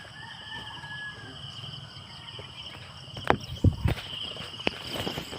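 Rustling and shuffling outdoors, then a few sharp pigeon calls and clucks burst out near the middle, with a faint steady chirping background.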